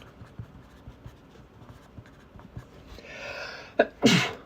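Faint rustling and scratching, then a sharp intake of breath and a single loud, close sneeze near the end.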